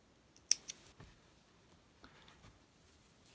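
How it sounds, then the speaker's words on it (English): Scissors snip crochet yarn at a sweater cuff, one sharp close cut followed by a couple of softer clicks and faint handling noise in an otherwise quiet room. "that's where I'm going to just snip this off"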